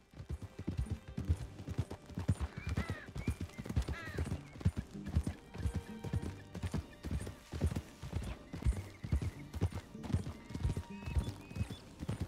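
Horse hooves clip-clop steadily in Red Dead Redemption 2, with a short whinny partway through and someone talking over the trotting.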